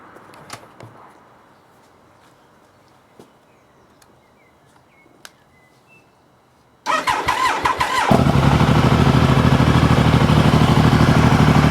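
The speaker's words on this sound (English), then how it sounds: "starting the engine up" A Triumph Tiger 885i motorcycle set up as an enduro/touring outfit sits quiet with faint ticks, then its engine cranks over briefly, catches and settles into a loud, steady running note close by.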